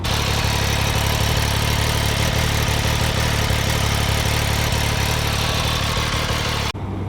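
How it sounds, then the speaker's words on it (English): The stock exhaust of an MV Agusta F3 800 motorcycle idles steadily and loudly nearby, a rough, lumpy rumble that runs for several seconds before cutting off abruptly. "Now at idle, I'd say the stock exhaust sounds like crap"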